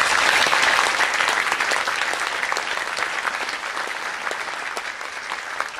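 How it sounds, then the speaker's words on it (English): A full round of applause from a ceremony audience at SHOF 2015, dense and sustained, strongest at the start and easing slightly while staying steady to the end. "I would like everybody to give Casey and her staff a round of applause."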